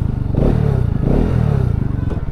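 A Bajaj Pulsar RS 200 BS6 sports motorcycle engine, loud and close, rumbling with rising and falling revs in a pulsing rhythm, with a faint clattering edge and no talk.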